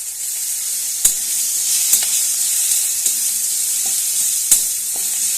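Chopped onion dropped into hot oil with already-fried dried red chillies for a sea fish curry, giving a steady, close, bright sizzle broken by a few sharp utensil clicks and stirring knocks.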